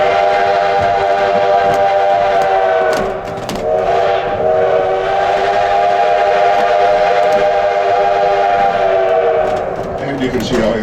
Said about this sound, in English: The whistle you just heard is the first crossing signal in this direction.